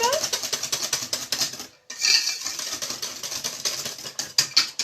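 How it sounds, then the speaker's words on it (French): Cream being mixed in a bowl for an apple cake, a quick rhythmic clatter of a utensil against the bowl, close and fairly loud, with one brief pause partway through. "Là je mélange bien la crème."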